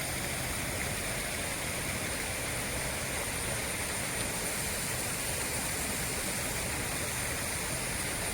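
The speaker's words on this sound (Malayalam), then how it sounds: "അപ്പോൾ നമ്മൾ തൊമ്മൻകുത്ത് വെള്ളച്ചാട്ടം എത്തിയിട്ടുണ്ട്" Thommankuthu waterfall near Thodupuzha roars with a constant dense rush of falling water, broadband and unbroken, heard from close by with no voices.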